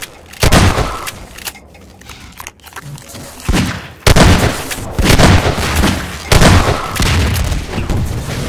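Repeated loud shotgun blasts in Half-Life 2: Deathmatch, several heavy booming shots in quick succession close up, with brief gaps between bursts.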